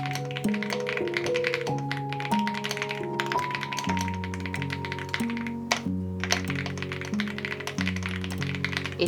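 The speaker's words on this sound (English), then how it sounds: "I'll just be typing away for the rest of the afternoon" Steady tapping on a computer keyboard carries on throughout, with soft uneven keystrokes under sustained background music during an afternoon writing session.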